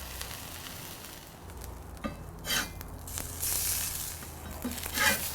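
Slices of Canadian bacon fry in a pan for an Aussie burger, giving a steady soft sizzle with a few brighter hissing bursts and light scrapes as they are moved around. No one speaks.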